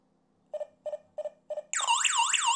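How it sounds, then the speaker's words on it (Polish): Four short, evenly spaced beeps, then a loud warbling electronic siren from a wireless home alarm kicks in and keeps wailing. "Zostaje alarm. I na telefonie jest też alarm."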